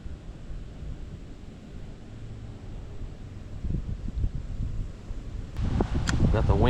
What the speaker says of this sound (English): Got the wind picking up.